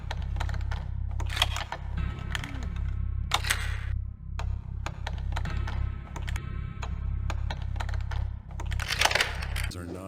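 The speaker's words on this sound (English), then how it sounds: "my favorite sound might be the lockpicks. I always thought there was something very satisfying about the way they click around" Lockpicks in the stealth game Thief Gold click and tick in short, sharp metallic bursts, near and crisp, separated by brief pauses over a low steady hum.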